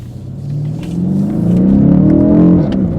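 A car engine revs up and climbs steadily in pitch over a few seconds, loud and close, with a throaty rumble.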